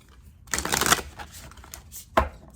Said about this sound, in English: Oh, I don't think I shuffled these actually.